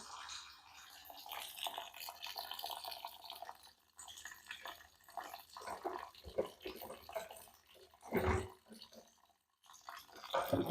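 Water runs steadily from a kitchen tap over rice being washed in a pot, a continuous hiss with some splashing and clinks as the grains are stirred.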